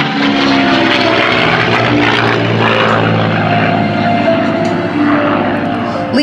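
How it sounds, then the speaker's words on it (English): A P-51 Mustang fighter flying a demonstration at an air show, its propeller engine roaring loud and steady throughout with a slightly shifting pitch as it maneuvers; a voice is faintly present. "This particular maneuver will show the vertical capability of the P-51 Mustang"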